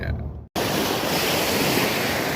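Ocean waves wash onto a Florida beach on a mild morning, a steady broad roar of surf with some wind. A brief break comes at the start.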